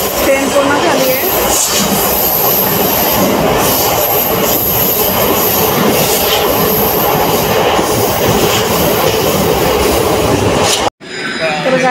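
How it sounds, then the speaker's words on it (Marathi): Steady rumble and rattle inside a moving passenger train during a rainy-season journey in India, a continuous loud wash of wheel and carriage noise with occasional squeals, cutting off abruptly near the end. "तर आता आम्ही चाललो आहे, ट्रेन पकडली आम्ही."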